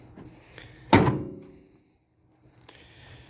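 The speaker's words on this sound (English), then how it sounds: "Doors shut okay, not the best." A door on a 1976 Ford F250 crew cab pickup, parked for 17 years, is shut with a single loud, close thunk that fades quickly into near silence.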